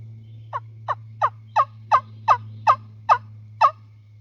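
Wingbone turkey call tuned to imitate a male turkey, blown in nine sharp, evenly spaced yelping notes with a deep rollover, close and clear over a steady low hum.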